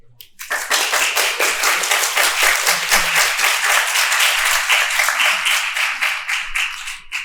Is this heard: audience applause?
yes